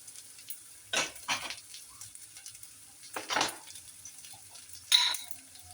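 Moringa drumsticks sautéing with turmeric in a pan: a faint, steady sizzle, broken three times by brief scraping stirs of a utensil against the pan and a light metallic clink.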